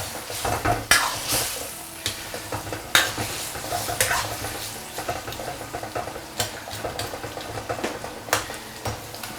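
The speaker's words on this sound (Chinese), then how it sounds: "我们下入这个黄瓜和这个子姜，今天给它推一下" Cucumber and young ginger stir-fried in a wok, with repeated sharp spatula scrapes and clatters over a continuous sizzle, close and fairly loud in an irregular rhythm.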